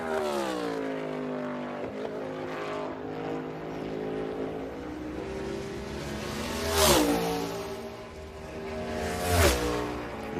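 NASCAR Cup Series cars at the 2022 Ally 400 qualifying accelerate with loud, rising engine whines that climb through the gears, and two sharp roaring passes sweep by in the second half.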